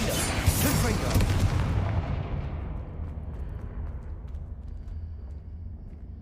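Confringo blasting spells cast in the video game Hogwarts Legacy set off a loud, booming explosion that rolls into a rumbling decay, fading gradually over several seconds.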